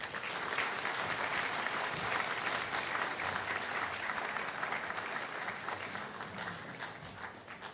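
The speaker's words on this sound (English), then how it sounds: "Another round of applause for our chairman for today, the Right Honorable Alban Sumana Kingsford" A conference audience at the launch of Ghana's national AI strategy applauds continuously for nearly eight seconds, a steady, moderately distant wash of many hands clapping with no talk over it.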